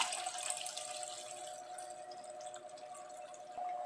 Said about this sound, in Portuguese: Já vou adicionar mais 500 ml de água.